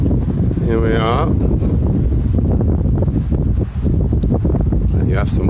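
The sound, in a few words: wind outdoors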